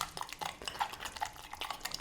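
A spoon stirs melted chocolate in a warm bowl, giving a run of light clinks and scrapes against the bowl in an irregular rhythm, close and fairly quiet, with no voices.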